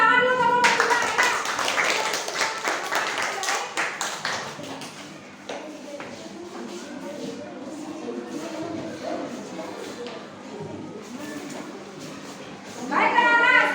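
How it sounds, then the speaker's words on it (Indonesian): Students in a classroom clap for a group returning to their seats, a burst of quick clapping at the start that fades into murmuring and shuffling, with another short round of claps near the end. "Baik, tepuk tangan dulu kelompok 3 ya."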